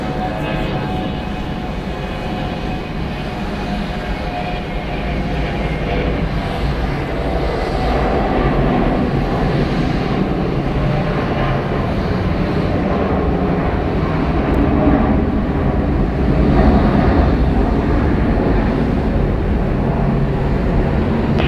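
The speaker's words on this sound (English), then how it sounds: "Departing Delta Airlines flight 1621, going to Gulfport," Delta Airlines Boeing 717, 18 years old, departing Atlanta airport, a loud continuous engine rumble that swells slightly over the takeoff run, heard alone without talk.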